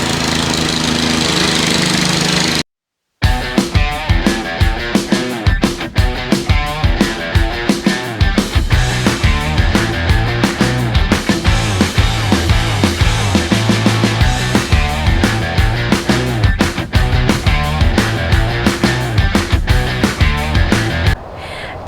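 Garden tiller churning soil while breaking ground for a new garden, a loud chugging small engine with rapid rhythmic knocks after a brief cutout near the start, no talk.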